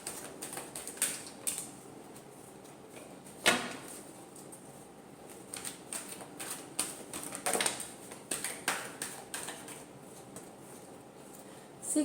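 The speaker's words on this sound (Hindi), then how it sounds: "एक लास्ट शफल करेंगे" Tarot cards being shuffled, soft close riffling and flicking bursts with light taps and slaps scattered irregularly across a quiet background.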